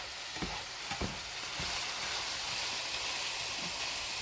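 Drained taco meat frying in a pan gives off a steady, loud sizzle and hiss, broken by a few scraping stirs near the start.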